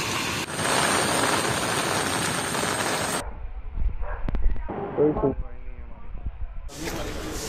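Heavy rain pours down in Jammu, a steady broadband hiss for the first few seconds, then it drops away as someone starts talking over the quieter background.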